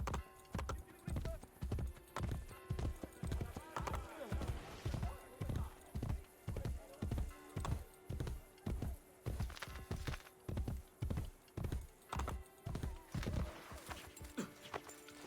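Steady rhythmic clip-clop of horse hooves in Assassin's Creed Brotherhood throughout, evenly paced and fairly quiet, with faint background game sounds.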